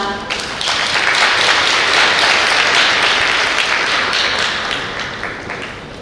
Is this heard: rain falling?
no